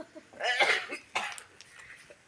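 A person coughs in a short burst of several harsh coughs, followed by a couple of fainter throat sounds, close and fairly quiet with no speech.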